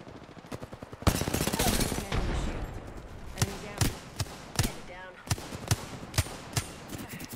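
Rapid gunfire in the shooter game Apex Legends, sustained automatic bursts for about a second and a half, then a steady run of single loud shots spaced out through the rest, close and dominant with no talking over it.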